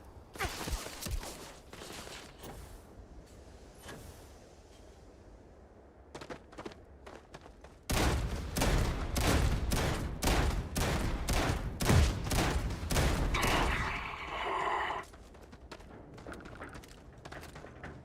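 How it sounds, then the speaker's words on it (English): Gunfire in the space game Starfield, with scattered shots and thuds at first, then a loud run of rapid repeated shots in a fast rhythm lasting several seconds before it cuts off, with no talking over it. "Who's shooting me?"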